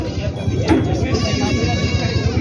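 Lambs and goat kids bleat at a livestock pen in a short, loud burst of overlapping calls, with a person talking over them.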